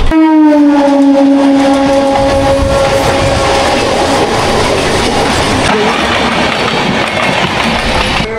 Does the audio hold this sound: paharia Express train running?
yes